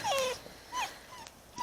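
Young puppies whimper and whine in short high rising cries, three or four brief yelps spaced across a moment, fairly close and soft, with no talking.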